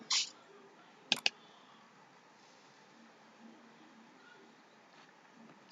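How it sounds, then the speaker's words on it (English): A computer mouse clicks on an add new category button while building a WordPress site, giving a sharp double click close by in an otherwise quiet room, with a short hiss just before it. "So we're going to come to the add new category button and click."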